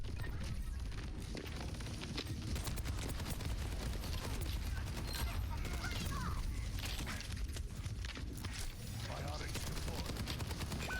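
Faint, dense gunfire in the video game Overwatch 2, with rapid overlapping shots and clattering action sounds running continuously, distant and low in level, with some voice-like noise mixed in.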